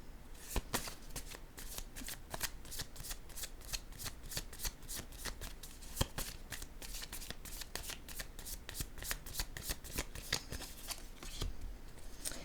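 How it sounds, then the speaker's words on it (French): Tarot cards are handled and laid down in a close, quiet series of crisp snaps and slides, dozens of sharp card sounds following one another steadily with no talk. "je vais déposer une carte ici, sur l'espoir."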